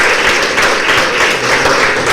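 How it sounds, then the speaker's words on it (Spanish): A conference audience at a maternal health forum in Mexico applauds steadily, a dense wash of many hands clapping at even loudness throughout. "Les pido, por favor, le demos un aplauso para hacerle la bienvenida."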